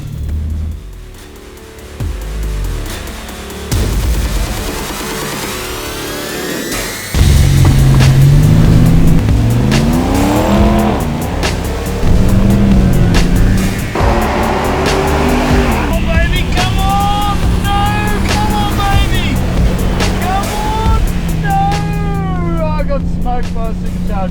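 A modified Toyota LandCruiser 300 Series making about 440 horsepower races off the line, its engine revving hard through rising gear pulls with tire squeal, loud and close, while people talk over it.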